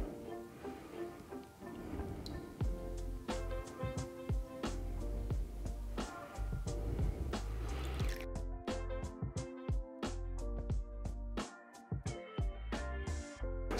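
Melted candle wax pours into a matte black metal bowl, a steady run of drips, trickles and liquid plinks close up with no talking.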